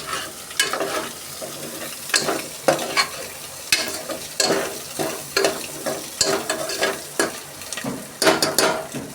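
Salt, chili powder and turmeric are stirred into a sizzling pan for egg rice, and a spoon scrapes in repeated rhythmic strokes over a steady frying hiss, close and clear.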